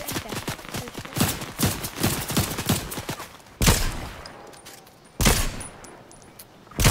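Rapid gunfire bursts crackle in a duos shooter video game, then two heavy isolated blasts from an RPG rocket launcher boom out with pauses between them.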